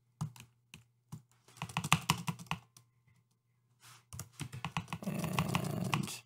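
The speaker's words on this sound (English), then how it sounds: "And then start spacing these with the space bar." Space bar presses on a computer keyboard come as sharp, close clicks, first singly with gaps, then in quicker bursts, ending in a denser run of clatter.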